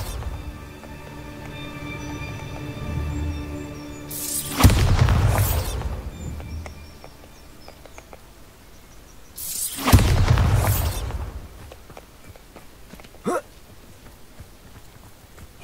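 Bombarda spells cast in Hogwarts Legacy burst as two loud, booming blasts about five seconds apart, each with a crackling rushing tail, over a low game ambience and footsteps.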